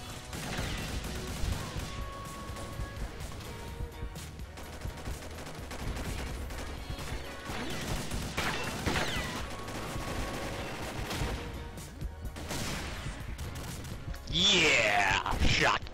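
Shotgun blasts and other weapon fire in a multiplayer shooter match, sounding as loud bursts over steady game noise, with a louder flurry near the end and a player talking throughout.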